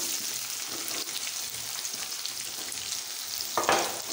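Potatoes sizzle and crackle steadily in a hot pan with green chillies and spices, a dense continuous frying hiss with a brief louder stir near the end.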